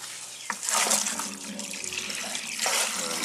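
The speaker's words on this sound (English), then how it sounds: "And fill up the bucket." Water from a tap gushes into a bucket with dish soap outdoors in a garden, a loud, steady splashing rush that starts abruptly and runs continuously.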